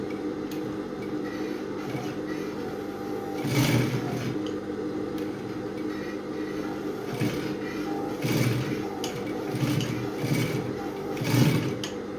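A sewing machine stitches a transparent corset with inbuilt boning, a steady close mechanical whirr broken by short louder bursts and clicking pauses as the fabric is repositioned.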